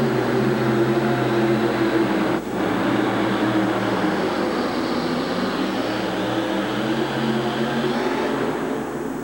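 A pulling tractor's engine roars loud and steady at a 1987 monster truck and pulling event in the Houston Astrodome, a constant heavy drone with one brief dip.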